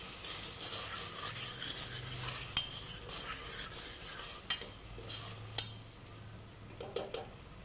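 Tomatoes being sautéed for chicken curry, a soft sizzle under repeated scraping and clinking of a spoon against the pan, with quiet rhythmic stirring throughout.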